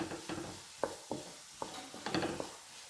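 Carrots fry in a pan and a spoon stirs them, giving a series of sharp scraping knocks roughly every half second over a soft background, with no voices.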